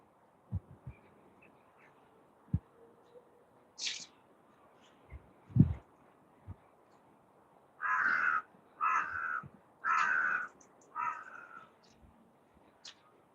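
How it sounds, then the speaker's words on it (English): Several loud, harsh crow caws in a clustered series at nightfall, with scattered thumps and faint background noise between them. "You can hear the caw. The crow's going to bed as the night falls."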